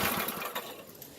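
A small yard kart engine idling, a faint, steady buzzing drone with no talk over it.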